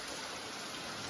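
Heavy rain pours steadily on a farm in a dense, even hiss with no voices.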